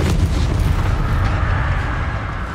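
A Bombarda exploding spell in Hogwarts Legacy detonates with a sustained deep rumbling blast and gritty crackle that slowly tapers, loud and near throughout.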